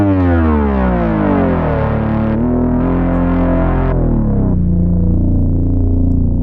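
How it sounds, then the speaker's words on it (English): The Legend synth in Bitwig plays sustained, buzzy, harmonically rich tones whose pitch glides downward and steps to new notes, loud and alone without talk. "let me play a note for you here using the Legend"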